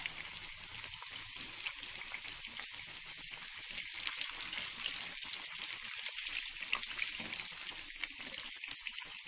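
Thinly sliced bitter gourd deep frying in oil gives a steady, soft crackling sizzle with dense tiny pops throughout, close and fairly quiet, with no talking.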